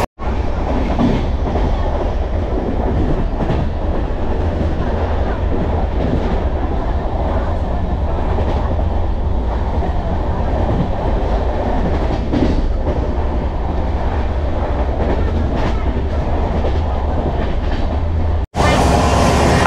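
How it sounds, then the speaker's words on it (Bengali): The Howrah–Bangalore Duranto Express runs at about 105–110 km/h near Kolaghat, heard from inside the coach as a loud, continuous roar with rhythmic wheel clatter that cuts off abruptly near the end. "আর ট্রেনের অ্যাভারেজ স্পিড 110-105 ধরেই চলছে"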